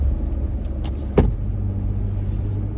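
Steady, loud road traffic rumbling past outside on a congested street, a continuous low engine roar with a brief swell of a passing vehicle midway, no talking.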